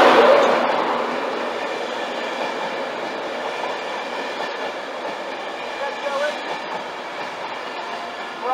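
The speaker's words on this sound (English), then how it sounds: "here comes the first train of the day" A British Rail Class 91 electric locomotive, number 91121, pulls into Peterborough station. A loud, broad rumble from the wheels and traction builds at first, then holds steady and close for several seconds.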